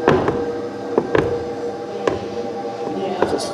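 Footsteps sound effect from a horror exhibit's sound box: a handful of sharp knocking steps at an uneven pace, close and fairly loud.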